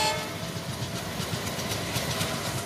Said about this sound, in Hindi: ये जो हॉर्न साउंड सुनाई दे रहा है गाइस ये है